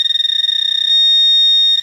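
A Garrett Pro-Pointer metal detector held near a coin gives rapid chirping beeps that speed up and merge into one steady, loud, piercing tone, which cuts off abruptly near the end.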